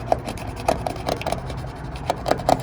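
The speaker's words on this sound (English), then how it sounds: "Take my razor. And I'm chipping it off." A razor blade chips and scrapes the damaged clear coat off a 2006–2011 Honda Civic hood in short, close, rasping strokes, a few sharper scratches standing out above a low steady rub.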